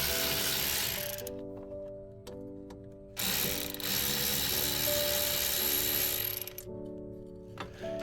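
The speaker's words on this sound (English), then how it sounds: "you need to remove the two bolts holding the piston into the main frame" Ratcheting socket wrench loosening the two bolts that hold a car brake piston into its frame, with several bursts of rapid close clicking separated by short pauses.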